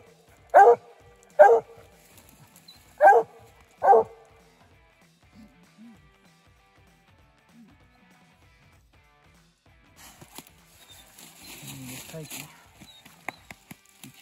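A coon hunting dog barks four loud, evenly spaced times close by, followed by quiet snuffling, then rustling movement and people talking further on.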